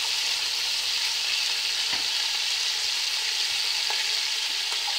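Chopped onions frying in oil for Afghani pulao, cooked only until their raw edge is gone and not browned, give a steady, dense sizzle with occasional soft clicks as they are stirred.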